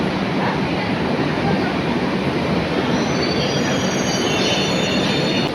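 A Kolkata metro train runs with a loud, unbroken roar of wheels on rails and a faint high squeal, heard from inside a nearly empty car, with no talking.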